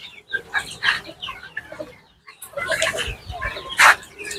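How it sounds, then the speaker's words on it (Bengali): Desi chickens on a rooftop farm cluck in short, irregular bursts close by, mixed with someone talking. "মুরগি তো ভাই ভালোই বানাইছেন।"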